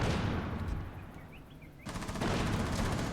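Rapid automatic gunfire crackles through a college esports video game match, a dense burst that dips briefly, then resumes just as loud and continuous with no talk over it.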